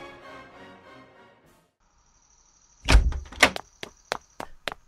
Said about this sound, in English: That's Lindsay exiting the front doors of the school and walking fast